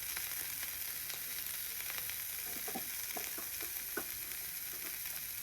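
Carrot being stir-fried for noodles in a pan, a soft steady sizzle with scattered light scrapes and taps of a spatula, fairly quiet and close, no voices.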